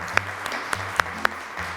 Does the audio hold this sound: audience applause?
yes